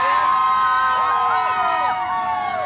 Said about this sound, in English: We are surrounded by fans.